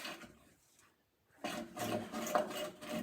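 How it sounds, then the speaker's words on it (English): A die grinder fitted with roll-lock sanding wheels works metal on a 1964 Ford Galaxie, a short raspy grinding burst starting after a brief quiet pause, close and moderately loud. "I'm going to use my die grinder with a couple of these roll-lock wheels"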